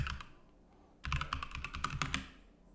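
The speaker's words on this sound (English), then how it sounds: "I'm going to type granuloma" Close, quiet typing on a computer keyboard, a brief tap at first and then a rapid flurry of keystrokes lasting about a second and a half.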